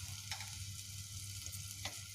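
Ghee heating in a pan on the stove gives a faint, steady sizzle with a few soft clicks and scrapes, quiet and close with no voices.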